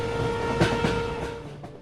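A passenger express train, the Howrah Superfast Express, runs along a railway line in rural Balasore district, India, giving a steady loud rumble with rhythmic wheel clatter and a sustained horn-like tone.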